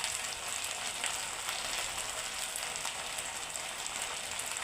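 Gobi manchurian sauce of chilli sauce and soy sauce frying in a pan, a steady dense sizzle with no pauses, fairly loud and close, with nobody talking over it.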